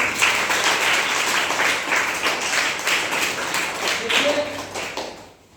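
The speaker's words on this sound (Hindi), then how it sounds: "शाबाश, ताली बजाइए" A classroom of students claps together, producing a steady, fairly loud patter of many hands, and a voice talks briefly partway through before the clapping tapers off at the end.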